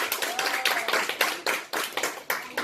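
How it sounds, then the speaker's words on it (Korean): A church congregation claps together in a quick, uneven burst of close, crisp hand claps that keeps going steadily, with no talking over it. "박수 한번 사드리겠습니다."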